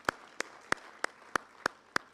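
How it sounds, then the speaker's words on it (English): Applause at a Uganda AIDS Commission live-streamed event, heard as seven sparse, evenly spaced claps at a steady beat, quiet and somewhat distant. "Let's give him a round of applause as he takes us."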